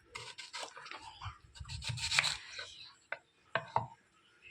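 Onion being cut into pieces with a knife for burgers: soft uneven chopping and rubbing strokes on a board, quiet and close, with a few sharper knocks near the end.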